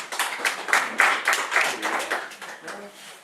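Audience applause at the close of a lecture on prehistoric rock paintings in Alacón, Teruel: a few seconds of scattered, moderately loud hand clapping that pulses and fades.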